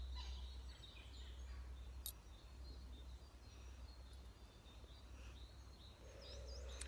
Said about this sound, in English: we can hear lots of birds too